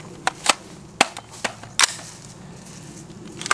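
A short-barreled AR-15 rifle firing outdoors: a handful of sharp, irregularly spaced reports, some close together, with gaps between and no talking.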